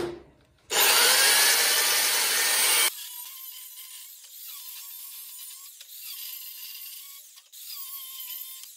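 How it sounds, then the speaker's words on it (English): A power tool cuts through a galvanized metal piece for a handmade toy, a loud harsh two-second burst up close followed by a lower steady whir with brief dips, no voices. "Just gonna cut this out."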